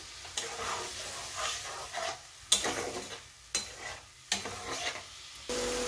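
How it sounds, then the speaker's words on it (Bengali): Spice paste for a cauliflower and egg curry sautéed in a pan with salt and a little water, a steady sizzle broken by several sharp stirring scrapes against the pan at irregular intervals. "এবার আমি মশলাটা ভালো করে কষিয়ে নিচ্ছি"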